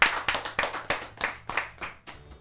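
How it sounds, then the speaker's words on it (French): A few people at a Bible quiz game clap in uneven rhythm, sharp and close, for a couple of seconds before it trails off. "Bravo, applaudissez pour lui"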